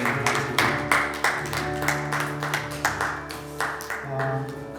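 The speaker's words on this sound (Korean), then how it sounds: "하나님께 영광의 박수 올려드리겠습니다." Congregation applauding during a Sunday church service, a dense, steady patter of many hands clapping together under organ or keyboard chords that sustain beneath it.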